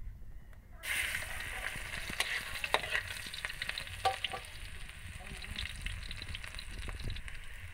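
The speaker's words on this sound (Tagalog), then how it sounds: "So ilalagay ko na po ang bawang at saka sibuyas." Garlic and onion dropped into hot oil and sautéing in a pan, the sizzle starting abruptly after a brief quiet moment and continuing steadily with occasional stirring scrapes.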